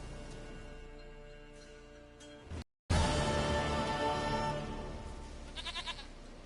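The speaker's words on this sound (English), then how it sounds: "Goat of mine! Dearest," A goat bleats in The Witcher 3 with wavering calls close by. A short cut of silence breaks the sound partway through, then low game ambience continues.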